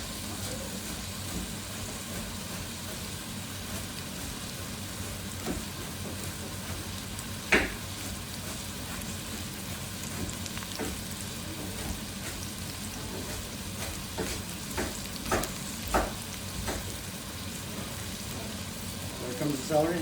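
Chopped onions and celery sizzle in a pan while a New Mexico style Thai curry is cooked, a steady broadband hiss with a few sharp pops and crackles scattered through, close and moderately loud, with faint talk now and then.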